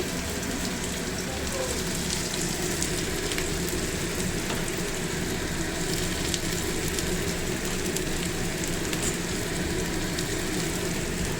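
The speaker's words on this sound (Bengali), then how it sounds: "আমি এখানে পেঁয়াজ রসুন আর লঙ্কাটা তেলে ছেড়ে দিচ্ছি" Onion, garlic and chilli sizzle steadily in hot oil for a brinjal bharta, a dense continuous crackle and hiss close by with no pauses.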